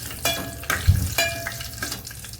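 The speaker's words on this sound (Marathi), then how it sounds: "तेजपत्त्याचं 1 पान टाकणार आहे." A single bay leaf and whole spices go into hot oil, and the pan answers with sharp bursts of sizzling and spattering, some pops loud and close, over a continuous fry.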